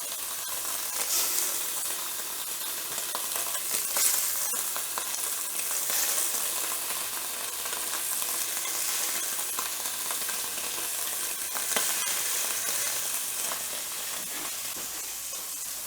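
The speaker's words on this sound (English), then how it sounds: "And now we're going to sear our seafood." Scallops and shrimp sear in a hot frying pan, giving a steady, loud, close sizzle and crackle that holds for the whole stretch without any talking.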